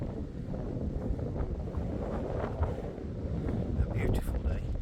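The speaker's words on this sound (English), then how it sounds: "It's a little bit windy" Wind buffets the microphone on a breezy day at Ashover Rock, a steady, loud rushing roar filling the outdoor scene throughout.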